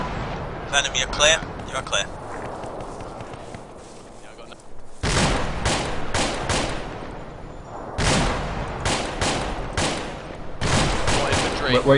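Bursts of gunfire from the video game Arma 2, set in Takistan, come as dense rapid volleys with short pauses, loud and close, while people talk over the shooting.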